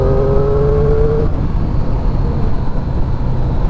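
Triumph 675 motorcycle idling with a steady low intake and engine rumble, close and continuous, with a brief tonal whine at the start.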